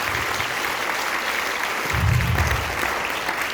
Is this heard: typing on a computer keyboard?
no